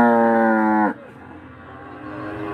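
Cattle at a livestock fair in Campina Grande give one loud, drawn-out moo up close, breaking off abruptly, followed by quieter pen noise.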